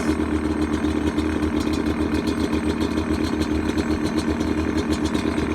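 A motorcycle engine idles steadily on choke while warming up after starting, a continuous close, even rumble with a fast regular pulse and no one speaking.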